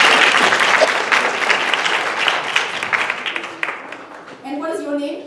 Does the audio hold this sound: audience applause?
yes